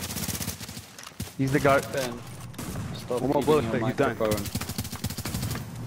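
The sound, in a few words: gunfire in a video game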